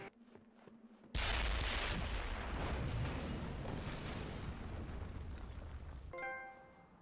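A weapons bunker in a Marvel video game blows up: a sudden loud explosion bursts in after a quiet moment, then a long roaring rumble of debris slowly fades.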